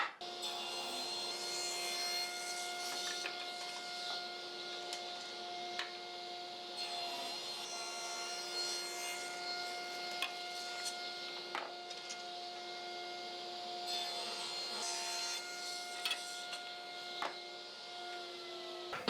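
A saw rips along the grain of a board of Osage orange wood in a workshop, a steady, fairly quiet grinding rasp that holds on without a break and with no talk over it.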